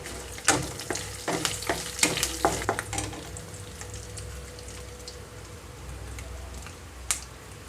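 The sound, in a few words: curry leaves frying in tempering oil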